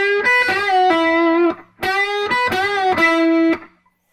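Electric guitar lick played with distortion, two short bluesy phrases of quick bent and sustained notes with a brief gap between them, loud and up close, no talking.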